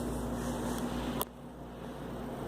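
A stepper motor driven on an electronics bench runs with a steady whine and hum, then cuts off abruptly with a brief click midway, leaving a quieter background hiss.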